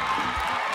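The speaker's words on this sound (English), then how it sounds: "cheer him on, cheer him on, cheer him on." Church audience cheering and whooping for a man at a pastor's service, a short, steady wash of crowd noise with scattered shouts filling the whole moment.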